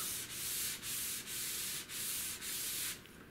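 PVC pipe is slid into foam pipe insulation to build a larp bat, making six close, even strokes of dry rubbing friction with short pauses between, then a quieter tail.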